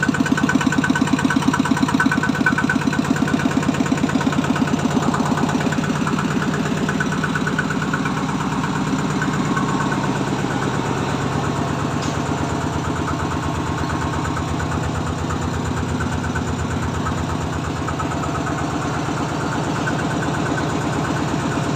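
A Thai rot e-taen farm vehicle with a newly installed engine idles steadily, giving a close, continuous mid-pitched chugging with a faint knocking rhythm, slightly louder in the first seconds.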